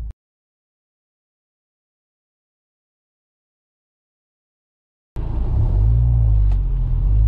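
A 2017 Ford Fiesta ST Mountune on the road, a deep, steady engine and road rumble that cuts in abruptly after about five seconds of silence and stays loud and close.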